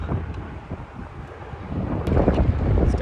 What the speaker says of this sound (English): We just got hit with a major gust of wind